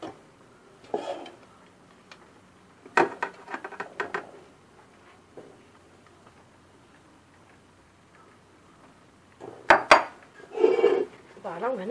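A spatula folds chocolate mousse mixture in a bowl with bursts of soft scraping and light clinks against the bowl's side, separated by quiet pauses.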